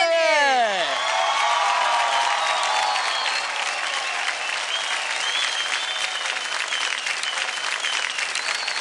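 Loud, sustained audience applause and cheering fills a TV dance competition stage, rising after a brief musical sting and continuing steadily for the dance pair Hardik and Nidhi.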